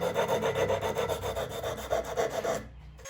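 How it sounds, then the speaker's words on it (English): Sandpaper wrapped around a wooden dowel rubs inside a hole-saw-cut hole in wood, giving steady rhythmic scraping strokes, close and fairly loud, stopping abruptly near the end. "A bit of sandpaper wrapped around the dowel worked well to smooth out the hole saw marks."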